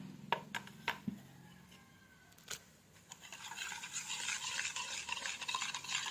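A batter of eggs and sugar is stirred and beaten: a few sharp utensil taps at first, then a rising, continuous swishing and scraping that grows louder and steadier toward the end.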